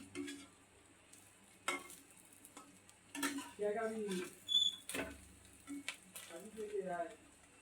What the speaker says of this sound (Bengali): এইভাবে সব ডিমগুলো একে একে ভেজে নেব।